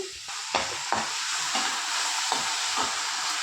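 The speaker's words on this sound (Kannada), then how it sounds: "ಈರುಳ್ಳಿ ಸಾಫ್ಟ್ ಆಗ್ತಾ ಇದ್ದಂಗೆ ಟೊಮೆಟೊ ಹಾಕ್ಕೊಳ್ತಾ ಇದ್ದೀನಿ" Onions softened in oil with tomato added, frying in a pan for an ivy gourd palya, giving a loud continuous sizzle broken by regular scrapes of a stirring spoon every half second or so.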